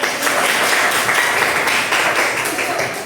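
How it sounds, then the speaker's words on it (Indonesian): Loud, continuous applause from a class of students clapping together, sustained throughout and fading slightly at the end. "Tunggu, masih tepuk tangan dulu"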